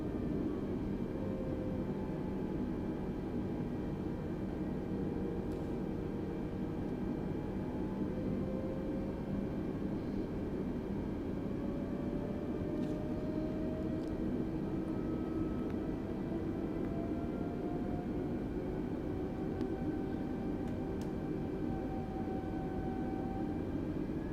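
An Airbus A320 taxis slowly in Microsoft Flight Simulator 2020, a steady, quiet engine hum and whine that holds evenly throughout, with faint tonal sweeps drifting over the low drone.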